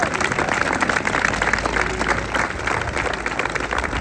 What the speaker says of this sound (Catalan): Un aplaudiment també per vosaltres